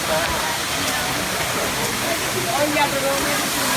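Steady broadband rush of a waterfall, loud and continuous, with faint voices underneath, in the Caribbean.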